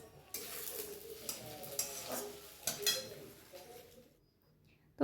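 Boiled potato mashed together with raw onion by hand in a bowl or pot, giving soft squelching, scraping and tapping strokes in an irregular rhythm, close by, fading to near quiet at the end.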